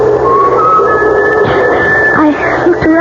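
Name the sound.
eerie whistling sound effect in a radio drama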